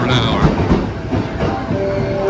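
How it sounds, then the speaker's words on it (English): A packed express train on a Japan Rail line rumbles loudly along the rails, with a dense clickety-clack roar filling the brief stretch and faint voices mixed in. "the express train was completely packed."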